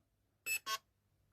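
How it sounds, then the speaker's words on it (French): Lipo battery alarm from a Perun M14 mosfet, two short high electronic beeps close together, loud and clear over near silence. "L'alarme pour la lipo."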